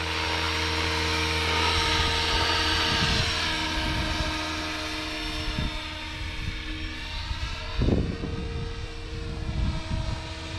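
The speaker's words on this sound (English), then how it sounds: "What a smooth helicopter." A TRex 500XT RC helicopter on its maiden flight holds a steady high-pitched rotor and motor whine, rising and falling slightly as it maneuvers nearby, loud and continuous without talk.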